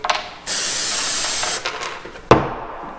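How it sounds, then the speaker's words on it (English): A long, steady hiss of glue activator sprayed from an aerosol onto wooden biscuits, lasting about a second, followed by a short sharp knock and quieter rustling. "set my biscuits down, spray them with the activator"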